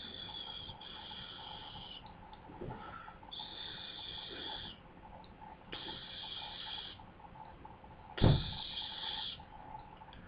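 Steady breathing exercise for recorder practice: four long blown breaths in a slow, even rhythm, each lasting a couple of seconds, with a louder sharp intake near the end, close and alone.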